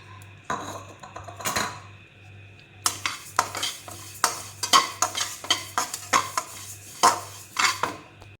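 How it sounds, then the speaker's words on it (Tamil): Sesame seeds roasting in a pan, with a spoon scraping and clinking against the metal in repeated, regular strokes over a soft sizzle, close and fairly loud. "இப்போ எள்ளு வறுக்க போகிறேன்."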